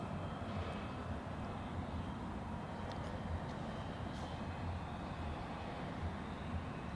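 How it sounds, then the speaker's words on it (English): An SAS Embraer 195 from Copenhagen landing at Zurich Airport: a steady, distant jet roar with a broad rumbling hum that holds level throughout, with no talk over it. "So, then landing currently is a SAS Embraer 195 from Copenhagen."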